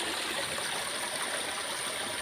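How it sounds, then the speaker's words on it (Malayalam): Steady broadband rush of a stream flowing toward a waterfall, continuous and fairly faint with no voices. "വെള്ളച്ചാട്ടത്തിലൂടെ ഇങ്ങനെ ഒഴുകി, ആണിയിലൂടെ ഒഴുകി അങ്ങ് അറബിക്കടലിലേക്ക് ഇങ്ങനെ പോവുകയാണ്"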